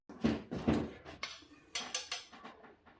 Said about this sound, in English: I'm just going to whisk this up.